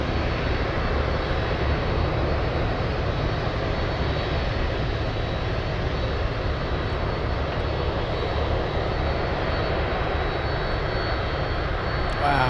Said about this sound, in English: We have the Trijet MD-11 on the taxiway heading to 3-3 for takeoff.